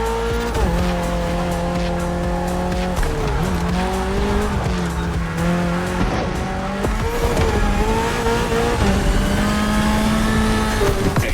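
A Toyota GR86 with a lightweight body and naturally aspirated engine races hard in The Crew Motorfest, its engine droning loudly and close while the tires squeal and skid in sustained, wavering howls through corners.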